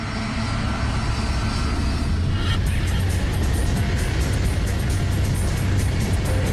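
Boeing airliner engines roar at full throttle, a loud, steady broadband rumble that holds throughout with no voices over it.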